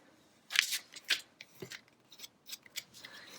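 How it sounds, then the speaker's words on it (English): Heat transfer vinyl is peeled off paper after pressing with a Cricut EasyPress, heard as two crisp tearing rips close by, then a run of smaller crackles and light peels, with no voices. "So now I'm just gonna peel like we normally would."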